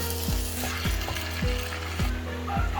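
Mutton pieces for a meat bhuna curry hit a hot pan, and a continuous sizzle runs under a regular series of sharp metallic clacks about every half second, close and moderately loud.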